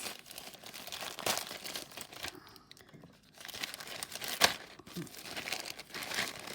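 Close, loud crinkling of a thin plastic bag holding fountain pen cartridges being handled, with bursts of rustling and tearing-like crackles and a brief quieter pause midway.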